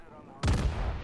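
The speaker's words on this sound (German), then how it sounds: "die Schüsse mal Richtung Atago gesetzt, aber die fliegen alle ins Wasser" Heavy main guns of the battleship Missouri firing in the naval game World of Warships, one sudden loud booming salvo that cuts in after a quiet moment and rumbles on.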